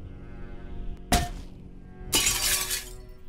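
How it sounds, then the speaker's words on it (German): Glass smashed with something heavy in the video game Insane Cold, two loud crashes, a sharp single break followed about a second later by a longer shattering spray of fragments. "Das Glas kann mit etwas Schwerem zerbrochen werden."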